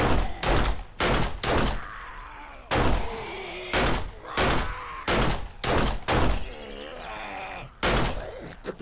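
Loud pistol shots in the pre-alpha 17 build of the video game 7 Days to Die, fired one at a time in an uneven rhythm of about a dozen sharp blasts, with moaning or growling between them.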